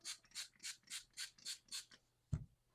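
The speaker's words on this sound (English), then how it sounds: "I'm going to spray it with some water." A spray bottle spritzes water onto wet paint on paper for art journal ephemera: about seven quick, hissing bursts in a steady rhythm, close and moderately loud, followed by a single soft thud.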